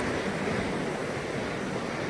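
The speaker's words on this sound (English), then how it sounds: "Surf seems like it's a little rough." Rough ocean surf breaks on a foggy island beach, a steady broadband wash of waves with some wind noise, unbroken and fairly loud throughout with no voices.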